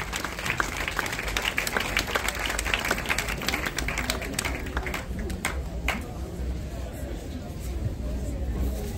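A congregation at a funeral vigil applauds loudly and steadily to acclaim the Lord, a dense continuous wash of clapping from a crowd with some voices mixed in.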